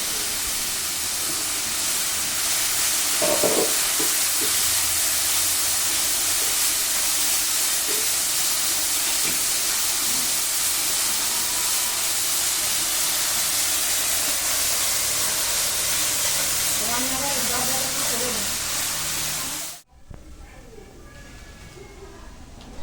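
Onion paste frying in a wok over a cumin and bay leaf tempering, a loud steady hiss with occasional clinks and scrapes, dropping away abruptly near the end.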